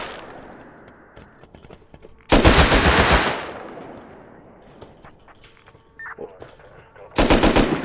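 Automatic gunfire in the survival video game Rust rips out in loud, dense bursts, one long burst near the middle and another at the end, with quieter game ambience between them.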